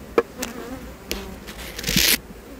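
Honey bees humming around an open tree hive with foundationless frames, a steady close buzz with brief louder passes of individual bees flying near.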